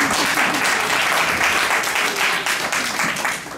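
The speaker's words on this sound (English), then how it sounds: "another round of applause." A crowded conference audience at a hotel in Accra, Ghana bursts into loud, dense applause, a full sustained round of clapping with faint crowd murmur mixed in.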